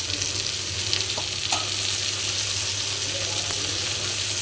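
Seela fish sizzling steadily in hot oil in a pan, a dense continuous frying hiss with faint stirring clicks, close and even throughout.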